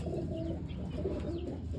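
Soft pigeon cooing murmurs close by, low and steady, with a quiet background hum.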